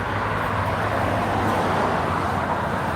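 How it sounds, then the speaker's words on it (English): Steady roar of street traffic from passing cars, a continuous broadband rumble with no distinct individual pass-bys and no voices, moderately loud throughout. "these cars, this noise, bothering me"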